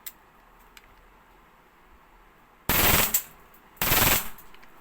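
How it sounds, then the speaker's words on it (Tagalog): EMG Pit Viper airsoft gun firing full auto, two dense rapid bursts of clattering shots, close and loud, the first roughly half a second long and the second slightly longer, after a quiet stretch with faint clicks. "Pag nakababa po, testingin natin yung full auto."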